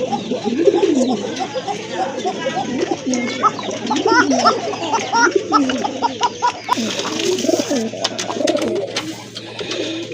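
A black pigeon coos repeatedly at a pigeon sale, close rhythmic throaty calls with other birds faintly around and someone talking intermittently.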